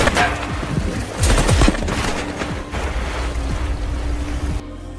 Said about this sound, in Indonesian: Para pekerja penasaran ingin melihat pengujian senapan otomatis.